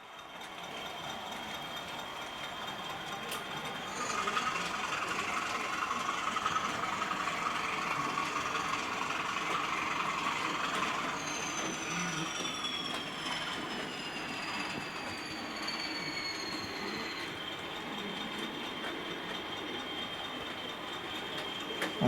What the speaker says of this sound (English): you will see the loco going around the back of the layout